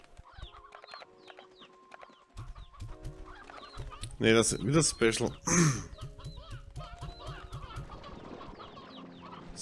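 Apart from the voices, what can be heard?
chickens clucking in video game Slime Rancher 2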